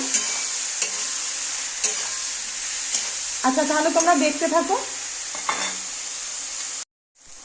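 Snake gourd fries with salt and turmeric in a pan, a steady hiss broken by scattered stirring scrapes, while someone speaks briefly midway before the sound cuts off.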